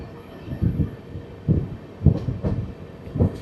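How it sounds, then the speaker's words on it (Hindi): A 16-coach Ramnagar–Dehradun Express passenger train running, heard as a low rolling rumble with irregular heavy thumps of wheels over rail joints. The sound is close, moderately loud and free of speech. "केवल 16 कोच की ट्रेन है"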